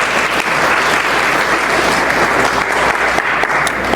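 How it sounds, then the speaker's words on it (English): A gala audience of Ghanaian professionals breaks into dense, loud applause, an even roar of clapping sustained for the whole stretch with no voices over it. "Please give yourself a round of applause,"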